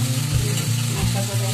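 Masala of onion, ginger, turmeric and green chilli fries in oil in a pan, a steady broadband sizzle with a low rumbling undertone, continuous and fairly close.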